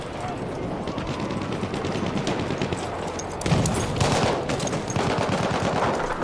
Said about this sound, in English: Machine gun, look alive!